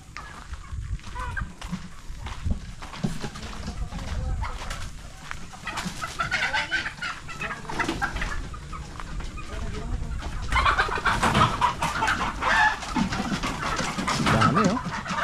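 A flock of chickens being caught clucks and squawks continuously nearby, busy overlapping calls growing louder toward the end, with occasional voices in the background.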